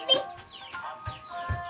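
Chickens cluck in short, soft bursts at close range in a backyard, with a faint background hum and no clear talk.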